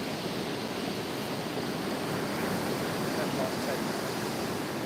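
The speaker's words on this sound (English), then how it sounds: "I think we're going to be alright with them waves" Ocean waves washing steadily as broad, continuous surf noise during an outdoor live stream by a coffee cup, with a person talking briefly over it.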